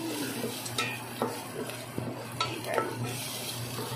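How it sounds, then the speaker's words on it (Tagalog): Garlic and onion sautéing in a pan, a low steady sizzle with scattered scrapes and clinks as the mixture is stirred, fairly quiet and close, no talking. "ginisa kong mabuti yung bawang at sibuyas"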